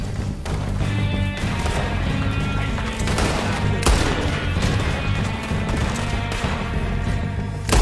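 A gunfight in Red Dead Redemption 2 crackles with a rapid, irregular run of loud shots and sharp impacts, one close crack after another over several seconds with little pause.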